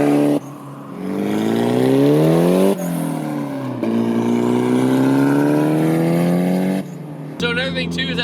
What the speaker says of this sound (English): he sounds like a freaking Prius